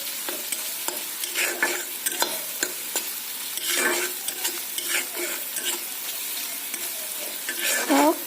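Onions with cumin, coriander, meat masala and garam masala sizzle softly in a pan as a spoon stirs and scrapes repeatedly, with irregular clatters and a slightly louder scrape at the end.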